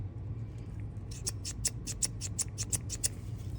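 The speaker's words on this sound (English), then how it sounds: "reset of the safety plunger." A Micro Dagger pistol fitted with a Tactical Pontoon trigger gives a quick run of about ten sharp, light mechanical clicks as its safety plunger resets, close and fairly quiet over a low background hum.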